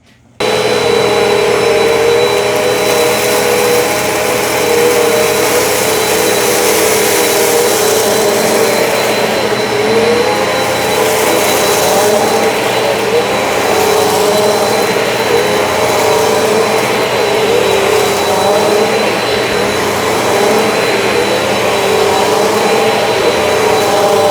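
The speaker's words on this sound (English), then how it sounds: "So let's go see how they clean some carpet." Amazon Basics and Bissell CleanView Compact upright vacuums clean carpet, with a loud, steady motor whine and airflow roar that holds unbroken close by, the carpet brushing faintly shifting its texture.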